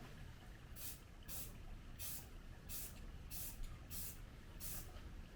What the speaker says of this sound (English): I'm going to spray a very small amount into there